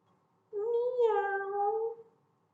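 A human voice imitates a cat with one drawn-out meow, close and clear, alone.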